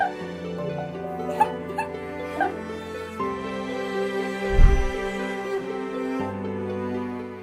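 An excited dog whimpering and yipping at a soldier's homecoming, a few short whines and one louder bark-like burst, all under a sustained music track.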